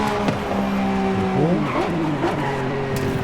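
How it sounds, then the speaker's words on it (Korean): Sports car engine in Forza Horizon 5, revving with rising and falling pitch sweeps and some tire noise, loud and close, with brief talk over it. "엔진 소리도 기가 막히고요."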